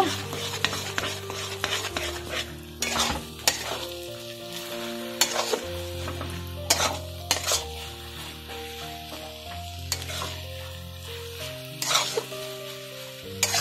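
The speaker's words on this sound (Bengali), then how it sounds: "এবারে ডিমটাকে ভালো করে গাজরের সঙ্গে মাখিয়ে নেব।" Egg stirred and fried with carrots in a pan, a continuous sizzle under repeated scraping and clinking strokes of a utensil against the pan.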